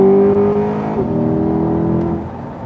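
A 2021 Chevrolet Corvette Z51 convertible with a naturally aspirated engine and eight-speed dual-clutch gearbox roars at full throttle, loud and close, its steady harmonic engine note climbing slightly before easing off.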